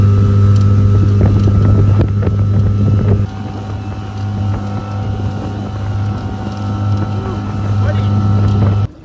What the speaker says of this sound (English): This is a Homwave T40 with a 20 horsepower Mercury.